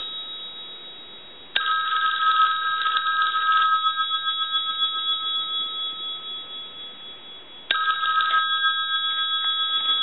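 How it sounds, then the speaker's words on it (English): A Western Electric 2500 desk telephone bell rings twice, each burst a rapid metallic trill lasting a couple of seconds, separated by a long silent gap. "Now we could hold the receiver down and ring the telephone."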